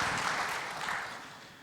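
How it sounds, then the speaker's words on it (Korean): Congregation clapping in praise during a Sunday church service, a soft, dense patter of many hands that gradually fades over a short stretch, heard alone without speech. "우리 하나님 앞에 영광의 박수 하겠습니다"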